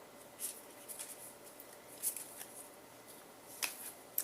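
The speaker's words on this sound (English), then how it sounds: "So I went to shuffle again" Oracle cards are shuffled by hand, giving soft, faint riffling taps and flicks at irregular intervals in a quiet room.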